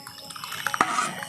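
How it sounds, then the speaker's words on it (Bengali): Hot water poured into a mug for a jackfruit-seed dal, a short close splash and trickle with a brief liquid burst near the middle. "এটার মধ্যে একটু গরম জল দিয়ে দেবো"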